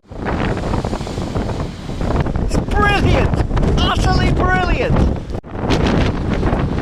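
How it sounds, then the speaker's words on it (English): Strong wind roars across the microphone with big waves and foam crashing on the Anglesey coast, loud and continuous, while someone talks excitedly over it. "It's just speckles of foam and great big blowy waves."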